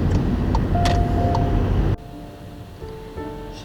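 A steady road-and-engine hum from inside a car being driven, loud at first, then dropping abruptly to a quieter cabin rumble with faint tonal whines and small clicks.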